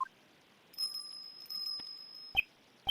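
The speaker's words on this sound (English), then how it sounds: "It has a bell on its collar." A bell on a dog's collar in a video game rings as a faint, steady chime for about two seconds, with a couple of sharper sounds near the end and no talking.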